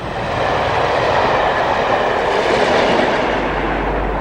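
Class 97 diesel locomotives 97304 and 97302 haul a Selhurst to Derby train past Loughborough on the Midland Main Line, with a Class 73 on the rear; a steady, loud rumble of passing rail wagons with faint clickety-clack, no voices.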